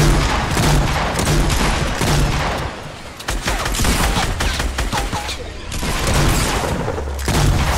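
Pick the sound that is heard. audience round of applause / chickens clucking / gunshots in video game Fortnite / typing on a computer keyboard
gunshots in video game Fortnite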